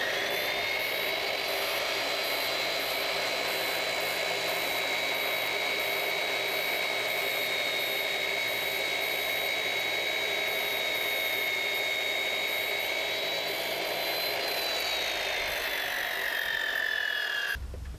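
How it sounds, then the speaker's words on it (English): Chop saw running in a hangar during an aircraft engine installation, a loud steady high whine with a sustained tone that drops off as the blade spins down at the end. "I'm going to cut it on our chop saw."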